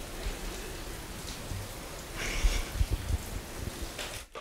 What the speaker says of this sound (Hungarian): Hallod az eső cseppjeit?